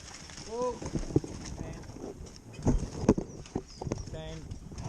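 A horse walks with hooves clip-clopping in an uneven rhythm of soft thuds, while a person talks and a bird chirps faintly in the background.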